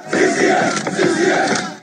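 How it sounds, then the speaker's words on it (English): A crowd of boys chants their school letters in unison at a rally, loud and continuous, with rhythmic swells of massed shouting voices. "Appearing to show Phillips approaching the crowd of boys as they chant their school letters."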